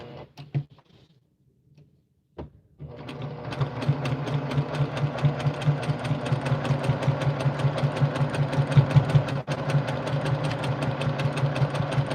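A sewing machine stitches four-patch fabric coasters with red top thread and green bobbin thread, starting after a few clicks and settling into a steady, close, rapid mechanical whir for several seconds.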